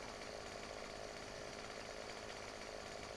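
A chainsaw in Farming Simulator 2015 runs at a steady high whine while cutting a tree, constant and even throughout with no pauses, under no talk.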